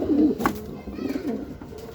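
Two racing pigeons coo and grumble close by in short agitated bursts while fighting, with a quick flutter of wings as they scuffle.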